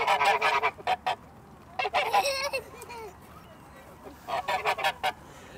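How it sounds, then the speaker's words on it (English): Geese at a garden centre honk in loud, close bursts, several rapid calls clustered at the start, in the middle and near the end, over a steady outdoor hum. "They're big birds, aren't they?"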